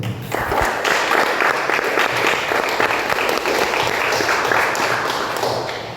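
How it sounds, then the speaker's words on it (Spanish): A church congregation at a service breaks into loud, sustained applause that fills the room for several seconds and tapers slightly at the end, with no one speaking over it. "Dale un aplauso al Señor."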